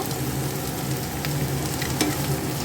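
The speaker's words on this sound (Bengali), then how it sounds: "নেড়ে সব করে নেব" Spiny gourd (kakrol) filling fries in a pan with a steady, dense sizzle, broken by a few scraping stirs. It sounds close and continuous, with no voices.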